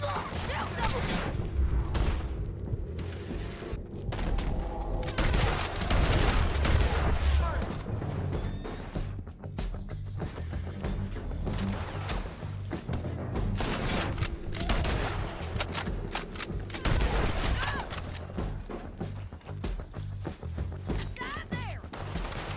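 Heavy gunfire in Red Dead Redemption 2, a sustained and loud fusillade of rapid shots and booms that continues throughout, with voices shouting over the battle.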